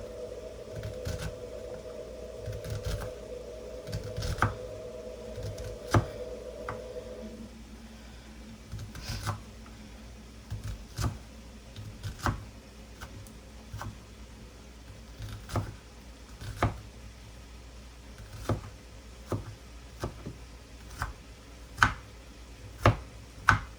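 An onion chopped with a knife on a cutting board, sharp irregular taps spaced through the clip, quiet and close over a low hum, alone without talk.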